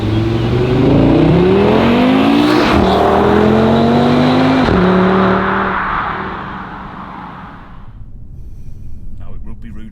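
Audi TT RS driving hard on a road: a loud, close engine rising through revs, with a gear change, then the engine fading to quiet as someone speaks over it.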